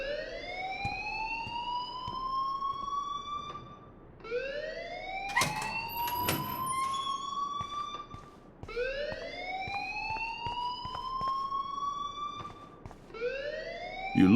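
A repeating electronic siren-like alarm wails in rising sweeps in the video game Life Is Strange, each sweep about four seconds long and loud throughout, with a brief burst of clattering noise in the middle.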